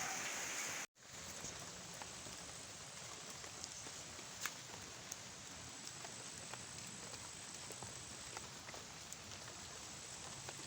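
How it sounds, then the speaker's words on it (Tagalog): Light, steady rain patters continuously on a stingless bee hive box, with a brief cut near the start and occasional louder drips. "gantong tikatik medyo matagal ang ulan"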